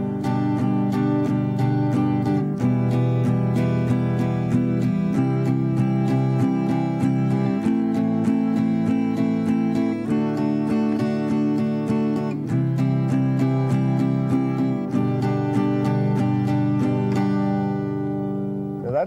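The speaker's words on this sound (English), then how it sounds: "Another varied strum pattern you may like to use that is a little more lively is what I call a down-up strum" Acoustic guitar strummed in a steady eighth-note down-up pattern, each chord hit evenly spaced and bright, played alone at a moderate, lively tempo.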